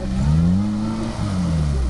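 An off-road vehicle, a Daihatsu Feroza on a trail outing, revs its engine through the exhaust in a loud, close, steady drone that swells briefly and dips, with no talk.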